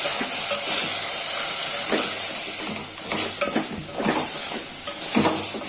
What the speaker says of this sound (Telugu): కారం వేసుకొని బాగా కలుపుకోవాలి.